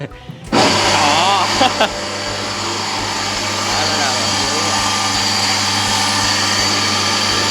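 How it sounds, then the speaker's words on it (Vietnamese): An electric grinder kicks on abruptly and grinds old rice with a loud, steady, high-pitched motor whine that runs without a break, while people talk over it. "Rồi giờ chị bật nút để xay nè. Hơi ồn nha cả nhà."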